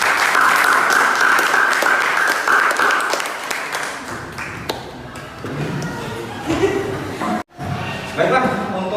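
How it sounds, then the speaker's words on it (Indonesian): Applause from a classroom audience for a student group presentation, dense clapping steady for the first few seconds, then thinning into scattered claps and murmuring voices. "Beri tepuk tangan untuk kelompok."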